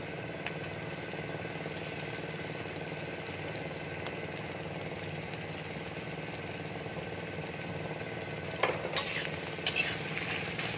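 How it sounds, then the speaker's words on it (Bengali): Capsicum and paneer fry in a pan while a utensil stirs and scrapes steadily, a continuous close sizzle with a few sharper metallic clinks near the end, no talking. "ক্যাপসিকামটা একটু হালকা করে ভেজে নিয়েছি আমি, এবার পনিরটা আমি দিয়ে দিচ্ছি"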